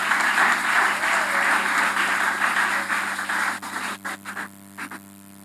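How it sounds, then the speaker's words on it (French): Church congregation applauding at an evening event, a dense sustained wash of clapping that thins into scattered claps and fades out toward the end, no talking over it. "Est-ce qu'on peut applaudir plus fort pour l'équipe?"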